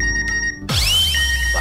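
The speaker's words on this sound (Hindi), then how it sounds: "बागा का मैसेज" A phone chimes with a short electronic message notification tone, a bright rising series of tonal beeps that follows a low hum and a faint earlier ping, heard close and clear with no speech.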